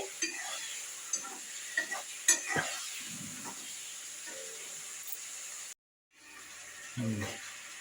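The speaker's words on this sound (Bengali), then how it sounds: "ভালো করে একটু নেড়ে" Spatula scrapes and soft clinks while eggplant pickle is stirred in a pan over a faint sizzle, a handful of irregular strokes, then a short silent gap and a low thump near the end.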